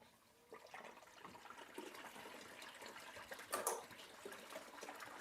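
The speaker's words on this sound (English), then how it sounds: "So I'm about to put the minus 10 material through the wash plant and see how it works." Running water pours and trickles steadily through a gold paydirt wash plant, a continuous close rushing wash with a brief louder gush partway through.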